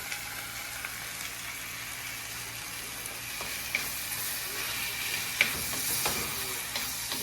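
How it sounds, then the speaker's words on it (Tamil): Onions sautéing in a clay pot for a Sri Lankan spicy prawn curry give off a soft, steady sizzle and hiss, with a few faint clicks of stirring and no voices. "கொஞ்சம் வதங்க விடுவோம்"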